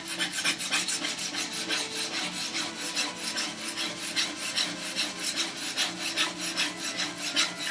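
A plane iron is honed by hand on a sharpening stone, giving a steady, close rhythmic rasping of back-and-forth strokes with no talk.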